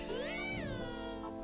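A cat Pokémon meows in the Pokémon Revolution Online video game, a single rising then falling synthesized mew heard clearly on its own, with a faint second call near the end.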